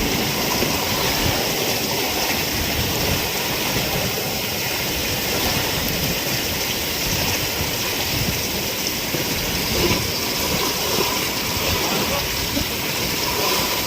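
Steady, roaring rush of heavy surf and wind as Typhoon Kabayan approaches Surigao, dense and unbroken throughout, loud and continuous with no pauses.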